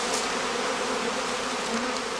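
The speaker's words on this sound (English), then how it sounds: "With a jolt, he shakes the swarm clusters into a catching skep." A honeybee swarm is shaken into a catching skep on heathland, giving a dense, loud, steady buzz of many bees close up.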